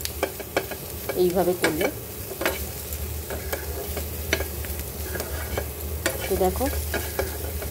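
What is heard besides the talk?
stirring green chilli pickle in a frying pan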